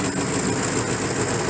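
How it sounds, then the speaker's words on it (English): A pickup truck engine idles steadily close by, its battery charging through jumper cables, giving a continuous even rumble with a faint high whine and no breaks. "Hopefully you can hear me over my truck."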